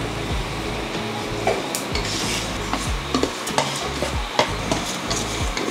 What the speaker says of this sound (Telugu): ఫాస్ట్గానే వేగిపోతున్నాయి.